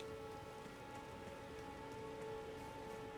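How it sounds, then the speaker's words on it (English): Steady rain pattering on surfaces in the open-world game Elden Ring, a dense, even hiss that holds without a break throughout, with no talk over it. "So it is raining."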